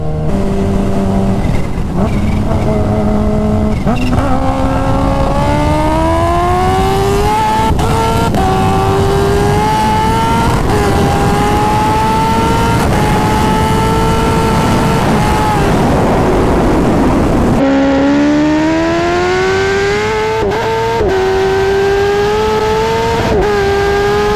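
Kawasaki Ninja H2 motorcycle making about 300 wheel horsepower, pulling wide open at full throttle toward 200+ mph, engine pitch climbing steadily through long gears with brief dips at each upshift, loud and continuous with wind roar throughout.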